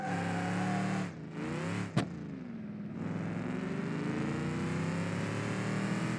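A car in BeamNG.drive accelerates down a ramp, its engine roaring loud and sustained with rising pitch, a brief dip and a sharp click midway, then a continuous strained drone, with no speech.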